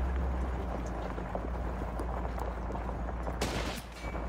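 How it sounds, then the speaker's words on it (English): Sniper gunfire in Call of Duty Modern Warfare 2 Remastered rattles as a dense, steady din of distant shots under a low rumble, with a sharper, louder burst near the end. "We're taking sniper fire from multiple directions."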